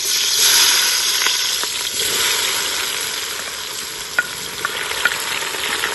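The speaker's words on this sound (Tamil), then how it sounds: "நல்லா சூடாயிடுச்சு எண்ணெயை ஊற்றிக்கிறேன் வெங்காயம் போடுறேன்" Onions dropped into very hot oil for biryani, giving a bright, close sizzle and hiss with occasional stirring taps, steady throughout and without any voices.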